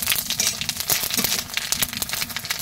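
Cumin seeds and dried red chilies frying in hot oil for an Odisha-style pumpkin greens poriyal crackle and spit in quick, dense, irregular pops, fairly close, with no talking.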